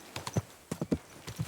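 Horse hooves clip-clopping in short uneven bursts of a few steps each, with quiet pauses between the groups of hoofbeats.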